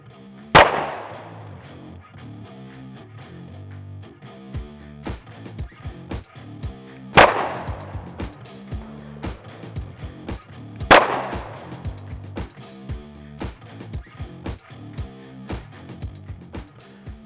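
Sig P320 X Compact pistol firing 124 grain NATO-spec +P ammunition at an indoor range target seven yards away, three sharp loud shots spaced a few seconds apart under steady background music.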